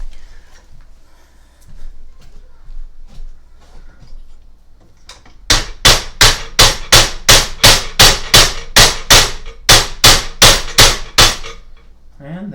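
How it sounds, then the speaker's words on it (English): A hammer strikes metal parts during assembly of a custom Cosplay 600 3D printer, about fifteen loud, sharp blows in a steady, even rhythm at close range after a few seconds of quiet handling noise. "Now I know I'm doing some real engineering because I'm having to use a hammer"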